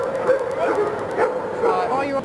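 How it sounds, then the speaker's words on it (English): A dog yips and whimpers repeatedly at police outside during a rail police patrol, with people talking over it throughout. "Those dogs will bark at anybody"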